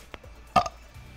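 A single short, loud burp from a person, close to the microphone, amid faint background noise.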